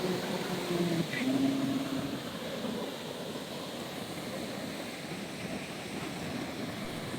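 Sea waves washing ashore at Puducherry beach, a steady broadband roar with wind buffeting the microphone and a faint tonal hum early on, continuous and moderately loud with no clear voices.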